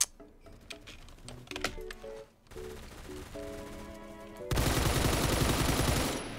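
Gunfire in the first-person shooter Phantom Forces: a few sharp shots early, then a dense, loud burst of rapid automatic fire near the end, with game music tones in between.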